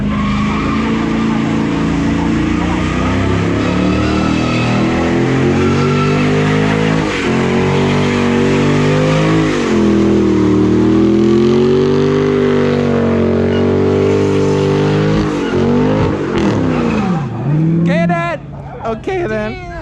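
A car at an exotic car meet holds a long burnout, its engine revving hard and its tires squealing continuously, with the pitch rising and falling for nearly twenty seconds before cutting out in a few sharp bursts, loud and close.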